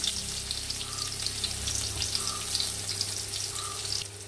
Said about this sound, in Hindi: जिरा घायला आनी ती क्रश केलो ती गार्लिक घालता. बरें सॉटे करता हांव